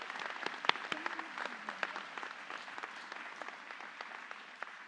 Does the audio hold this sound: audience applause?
yes